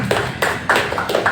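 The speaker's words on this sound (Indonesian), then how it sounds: "Luar biasa, tepuk tangan untuk Ki Haril." Audience at an Indonesian wayang talk event clapping, a few loose rhythmic bursts of hand claps close by, thin and uneven rather than a full crowd roar.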